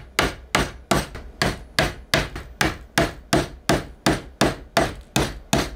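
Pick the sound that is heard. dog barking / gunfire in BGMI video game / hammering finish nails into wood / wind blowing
hammering finish nails into wood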